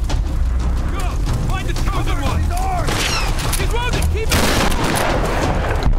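Gunfire in Tomb Raider: Definitive Edition, dense rapid shots and ricochets crackling over a loud battle din, with a person talking over the shooting.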